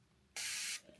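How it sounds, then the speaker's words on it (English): A single close spray of salt water onto piercings, a short sharp hiss lasting under half a second in an otherwise quiet room. "give a good little spray"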